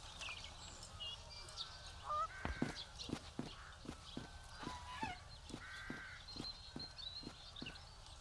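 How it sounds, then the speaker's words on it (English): Crows in the fantasy adventure game The Dark Eye: Chains of Satinav give harsh, honking caws over a steady run of regular clicking pulses, moderately loud against an ambient game background with no talking. "start to deal with those crows already"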